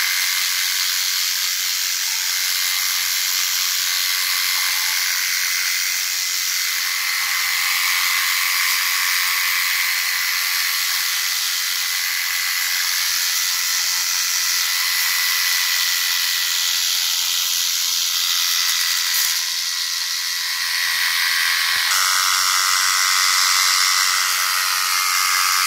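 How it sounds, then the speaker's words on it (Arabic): A sprayer mists water over the leaves of a sidr (jujube) tree in bloom, hitting them from above and from inside the canopy: a continuous, even hissing spray that holds steady throughout, with slight shifts in tone as the nozzle moves. "الاوراق نرشها من فوق نحاول ومن جوا"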